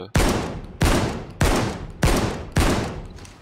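Shotgun loaded with explosive ammunition fired in the PayDay 2 game: five loud, booming blasts spaced roughly every 0.6 seconds, each decaying before the next, with no voices.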